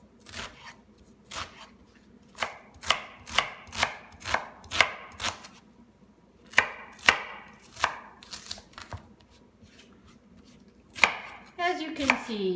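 A knife chops through cabbage on a cutting board in a home kitchen, about a dozen crisp, evenly spaced thuds in short bursts, close and fairly loud, with no talk.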